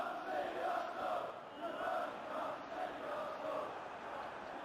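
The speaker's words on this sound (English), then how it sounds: "Well, the crowd clearly like what they just saw." Stadium crowd cheering in the football video game PES 2021, a continuous swelling roar at moderate level that rises and falls in waves without pause, with no talk over it.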